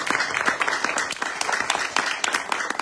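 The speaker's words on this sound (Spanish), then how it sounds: "un aplauso para la organización, por favor" Audience members at a comics and music talk give applause for the organizers, a short burst of fairly close, uneven clapping from a modest crowd.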